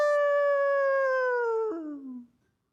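A person's voice imitates a hound dog howling: one long, loud sustained howl with rich harmonics that slowly falls in pitch, then breaks into a lower, fading tail.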